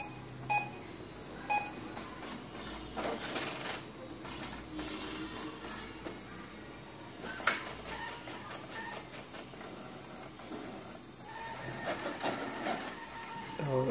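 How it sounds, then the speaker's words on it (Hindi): A Brother inkjet printer with an ink problem runs through a print job: rhythmic mechanical whirring, clicks and beeps from the carriage and paper feed at moderate level, with a voice speaking now and then. "मैं प्रिंट कर देता हूँ"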